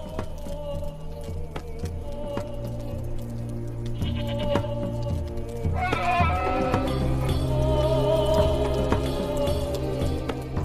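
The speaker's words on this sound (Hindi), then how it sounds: "हारून दो बकरियों के साथ खड़ा है, एक दाईं तरफ और दूसरी बाईं तरफ।" Two goats bleat repeatedly in a film scene, their wavering cries rising over a steady background bed of music and low ambience.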